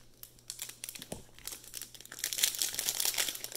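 A cello pack of Mosaic football cards is ripped open up close, with sharp crinkling and tearing plastic that builds into a denser, louder rustle toward the end, with no voices.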